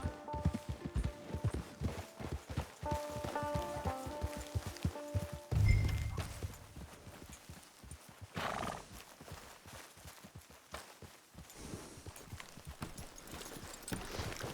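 Horse hooves clip-clop steadily in the video game Red Dead Online, with a neigh or whinny and soft walking steps over a layered in-game score and ambient background, moderately loud and close throughout.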